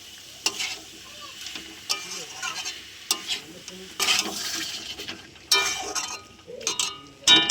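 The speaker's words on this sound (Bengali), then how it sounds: "আলু আর ওলটা দিয়ে ভালো করে কষিয়ে নেব" Potato and elephant foot yam sauté in spiced oil, with a loud close sizzle punctuated by bursts of scraping and spatula strikes against the pan as the pieces are tossed.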